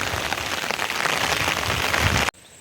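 Dense, steady rain pours down loudly, hissing on surfaces, then cuts off abruptly near the end.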